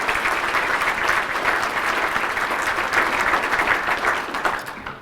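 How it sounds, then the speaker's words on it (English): An audience at the Midland State of the City Address claps in sustained, dense applause, a steady even roar of hands filling the room from start to finish before tapering slightly at the very end. "Let's applaud their commitment to the chamber."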